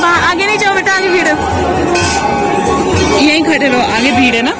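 Dense murmur of a crowd of pilgrims on the Kedarnath yatra, a steady close babble of many voices, with a nearby adult speaking over it.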